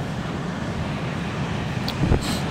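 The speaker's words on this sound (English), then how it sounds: "how strong the wind is" Strong wind buffets the microphone along the Trans-Catalina Trail, a steady loud rumbling roar with a brief gust surge near the end and no voices.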